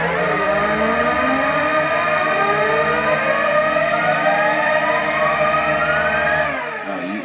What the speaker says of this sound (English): I always have like this sweep. It's an instrument that I created.